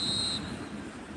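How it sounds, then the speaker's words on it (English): A referee's final whistle in the eFootball mobile football game, a single bright, sustained shrill blast that cuts off abruptly, followed by quiet game ambience. "And there goes the final whistle."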